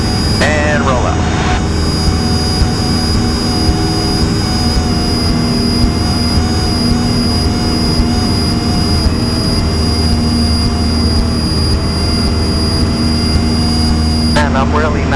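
A training airplane's engine drones steadily and loudly in flight during a student pilot's lesson on stalls and slow flight, with a constant cabin hum and no talk.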